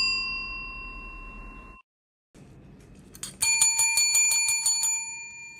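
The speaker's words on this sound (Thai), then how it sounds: "กดกระดิ่งแจ้งเตือนด้วย" A notification bell sounds: a bright ringing tone fades out, then after a short pause comes a rapid run of repeated metallic dings, close and clear with no talk.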